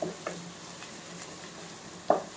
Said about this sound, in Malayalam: അത് ഇതിലേക്ക് ചേർത്ത് കൊടുക്കാം ഈ മസാലക്കൂട്ട് നന്നായിട്ടൊന്ന് മൂത്ത് വരണം